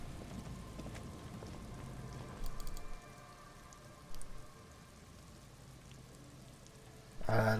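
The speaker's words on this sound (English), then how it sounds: "Reeds by the abandoned campsites hiss and shake in this lazily falling rain." Light rain falls steadily in Disco Elysium near reeds and abandoned campsites, a soft continuous hiss with brief louder bursts and a sharper sound at the very end.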